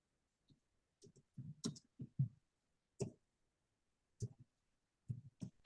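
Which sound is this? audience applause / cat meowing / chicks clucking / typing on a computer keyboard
typing on a computer keyboard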